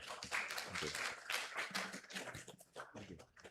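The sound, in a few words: conference audience applause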